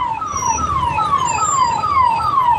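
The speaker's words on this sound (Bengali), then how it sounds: "পিছনে অ্যাম্বুলেন্স আসছে" A wailing ambulance siren repeats in quick descending sweeps, loud and close, over a low rumble of traffic on a Delhi road.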